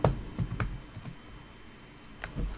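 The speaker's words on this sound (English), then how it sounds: "here we'd have to type in Azure user" Quick bursts of keys clatter on a nearby computer keyboard as a username is typed, a handful of crisp taps in an uneven run with short gaps and a final couple of strokes.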